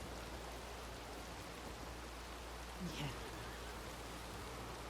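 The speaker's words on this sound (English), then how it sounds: "I come out and it's already pissing rain" Steady hissing rain falls in RedM, a western game world. The wash of rain is faint and even throughout, and a voice briefly murmurs over it.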